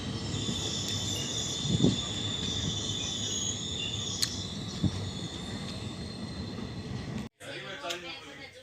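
A train runs on rails through sandy desert country, a steady close rumble of wheels with occasional squeals and insect chirps over it, cut off briefly near the end.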